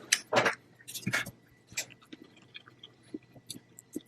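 Someone chews a bite of a Screamin' Sicilian Supremus Maximus frozen supreme pizza, close and crunchy, with several loud bites early and then softer, irregular chewing sounds.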